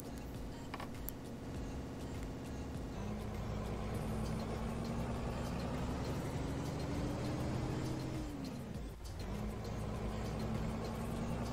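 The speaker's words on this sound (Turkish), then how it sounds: "Dediğim gibi egzoz sesleri eklemişler ya." Truck exhaust engine sound in the Cargo Simulator 2021 video game, a steady droning idle with a tone that rises slowly and then drops, continuous and fairly even with no talk.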